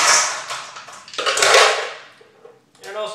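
Ice clattering into a blender jar for a Baileys shake, loud rattling bursts of cubes striking the container, tapering off, then a shorter clink near the end, with no voice over it.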